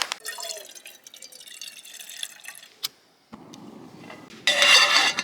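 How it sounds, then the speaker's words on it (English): Outdoors in the mountains, dishes are washed with water dripping and trickling, light clinks of a pot and a pause of near silence. A louder pour or rinse of water comes near the end, close and fairly loud. "Nothing like doing dishes in the mountains."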